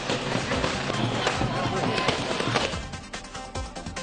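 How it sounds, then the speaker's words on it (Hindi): Fireworks set off by BJP workers celebrating in Jamnagar, Gujarat, a rapid, crackling string of sharp pops and bangs that runs continuously and thins slightly toward the end, under a busy background of crowd noise. "गुजरात के जामनगर में बीजेपी कार्यकर्ताओं ने आतिशबाजी कर जश्न मनाया।"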